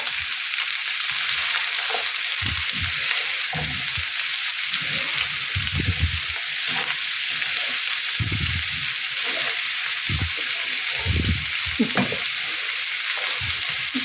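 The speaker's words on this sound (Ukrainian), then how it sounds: "Тепер хай трошечки посмажиться з цибулею вже" Potatoes frying with onions in a pan give a loud, constant hissing sizzle, broken by repeated low scraping knocks as the mixture is stirred.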